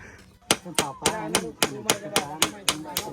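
Sharp hammer blows strike at a steady, quick rhythm, about ten close, loud impacts in a row, nails being driven into wood while building a bamboo bridge.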